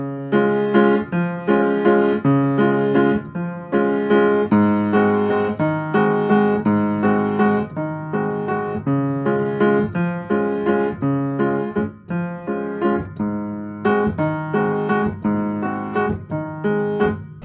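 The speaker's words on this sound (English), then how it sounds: "but a waltz really sounds like this." A waltz figure played on piano in steady triple time, with a low bass note followed by lighter chords in each bar, repeating clearly and evenly throughout without any voices.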